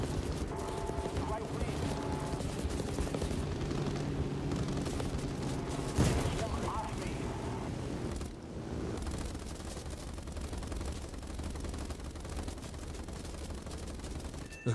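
Aircraft machine-gun fire from a PBM-3 bomber in the War Thunder flight game, continuous rattling bursts over a droning engine, with a sharp louder hit midway and someone talking over it.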